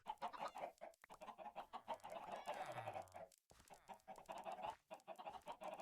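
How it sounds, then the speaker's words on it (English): Chickens in a video game cluck busily as they are fed, a dense, steady chatter of short clucks running through the whole stretch, close and fairly loud. "Oh, here, I'm gonna feed the chickens."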